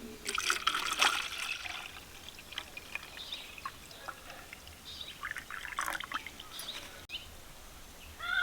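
Kokum syrup poured into a bottle, a soft, uneven trickle and splash of liquid in bursts, with faint bird calls in the background.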